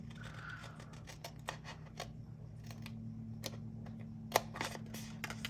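Scissors snip through dot grid planner paper in a series of quiet, crisp clicks and short cuts over a low steady hum, with one sharper snip standing out near the end.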